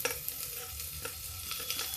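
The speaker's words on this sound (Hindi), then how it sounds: "तो इसमें डाल देते लहसुन और प्याज" Garlic and onion hitting hot oil with crackling urad and chana dal in a pan, a steady close sizzle and frying hiss with light stirring scrapes throughout, no voices.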